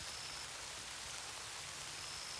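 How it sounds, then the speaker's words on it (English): Warm rain falling on a rural pasture, a steady soft hiss of drops that is fairly faint and even throughout, with no voices. "It started to rain"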